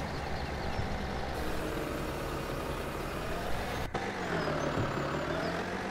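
A farm machine engine in Farming Simulator 17 runs steadily at a low idle with a brief break partway through, continuous and fairly close, with no talk over it.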